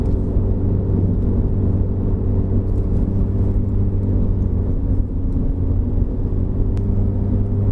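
Modified 2012 Honda CR-Z fan car driving in sport mode on a test drive, a loud, steady engine drone and road rumble from inside the cabin, with no voices.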